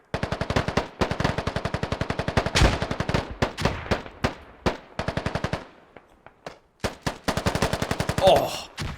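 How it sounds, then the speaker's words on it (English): PPSh submachine gun fire in the video game Squad during a market defense battle: rapid, sustained automatic bursts, loud and close, with brief pauses between strings of shots. "PPSH is going to engage the Russian troops from behind."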